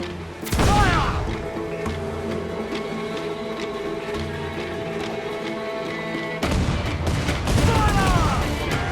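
Heavy ship cannon fire booms in a naval battle in Assassin's Creed IV Black Flag, with a loud broadband blast opening, a sustained rumbling barrage, then another loud burst near the end, with game sounds layered throughout.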